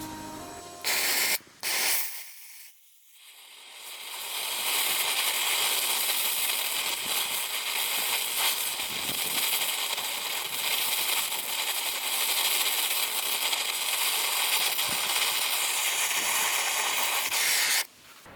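Molten metal from recycled detection casings is poured into a mould with flame, after a few clanks a loud, steady roaring hiss that carries on for about fifteen seconds, then cuts off.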